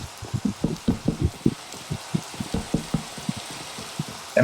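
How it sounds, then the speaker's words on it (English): Rain pattering steadily in Minecraft at night, a close, even spread of soft drops with repeated low thumps running throughout and no voices. "It might just be all the rain making all this noise"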